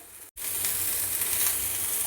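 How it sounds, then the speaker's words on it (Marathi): Finely chopped tomatoes hit lightly sautéed onion in a pan for a chole masala. After a brief silence, a loud, even sizzling hiss starts and holds steady close by. "हलकासा कांदा परतून झाला की याच्यात आता मी टाकणार आहे 2 बारीक चिरलेले टोमॅटो."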